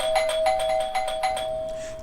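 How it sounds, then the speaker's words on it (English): A doorbell rings frantically, a rapid run of bright repeated chimes fading toward the end. "there was a frantic ringing of the doorbell."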